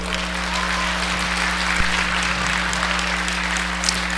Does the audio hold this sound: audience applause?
yes